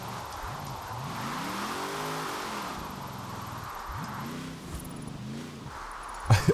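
GMC truck drifting on the handbrake in Forza Horizon 4, its engine holding a steady drone that rises and falls in repeated revving sweeps under a faint hiss, ending in a brief louder burst.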